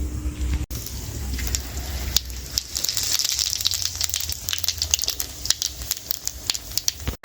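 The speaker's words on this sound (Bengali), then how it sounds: "এইবার ওই তেলের মধ্যে দিয়ে দেবো 2টো শুকনো লঙ্কা," Dried red chillies and cumin seeds crackle and sizzle in hot mustard oil left over from frying papda fish, a steady close hiss with scattered sharp pops throughout.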